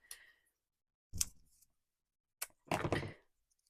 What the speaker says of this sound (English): I'm just going to cut the corners off